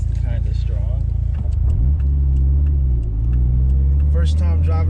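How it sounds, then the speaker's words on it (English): A Mitsubishi Lancer Evolution IV engine drones loudly from inside the cabin while driving, a strong low rumble with rising and falling revs, and people talk over it throughout. "First time driving an Evo 4."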